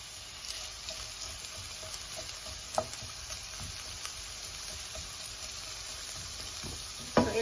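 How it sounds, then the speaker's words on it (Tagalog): Onion and ginger lightly frying in a pan for salmon sinigang, a soft steady sizzle with faint stirring scrapes and a couple of sharper utensil knocks, close and fairly quiet throughout. "i-light fry natin ang ating onion and ginger all together"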